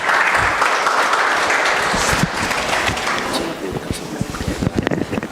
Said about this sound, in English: Let's clap for Priscilla Asemani as she comes to give us a closing